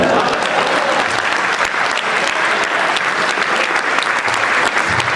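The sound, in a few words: audience applause at poetry recital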